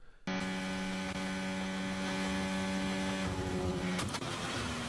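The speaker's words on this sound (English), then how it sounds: "this is inside the cockpit of the car that drives over the manhole cover" Cockpit audio from a Formula 1 Ferrari car driving over a manhole cover: a loud, steady engine drone with strong tonal harmonics and a brief sharp jolt near the end.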